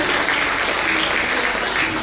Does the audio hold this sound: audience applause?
yes